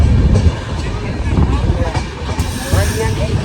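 A train passes through Udgir railway station in Maharashtra, heard as a loud rumbling roll with hiss and rattling wagons close by, amid a crowded platform with voices mixed in.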